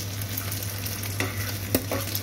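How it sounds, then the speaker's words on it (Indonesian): An egg fries in a pan for a rustic Indonesian home-cooked dish, a steady close hiss of hot oil sizzling with a few small pops and scrapes over it, with no talking. "Dan seperti ini kita dadar telur atau goreng telur ya"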